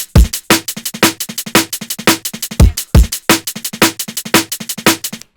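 A drum and bass beat plays loud and dry, with paired double kick drum hits, sharp snares and busy shuffling percussion in a fast, steady, repeating pattern.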